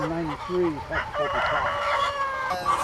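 A rooster crows nearby, its call rising and falling several times over a background of clucking hens.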